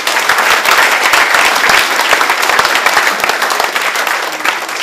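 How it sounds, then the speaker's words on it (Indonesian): Audience applause at an evening film screening and discussion in Indonesia, steady dense clapping that stays loud and even throughout with no voices over it. "Kita beri tepuk tangan."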